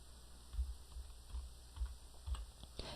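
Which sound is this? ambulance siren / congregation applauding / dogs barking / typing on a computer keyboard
typing on a computer keyboard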